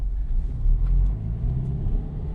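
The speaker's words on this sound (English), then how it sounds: "That's when you want to give it gas with your other foot. There you go, gas. More gas." A manual stick-shift car's engine makes a low, steady rumble as it gains speed, heard from inside the car without voices.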